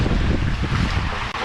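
Rough wind buffeting a microphone outdoors on a city street, a dense continuous roar with no speech.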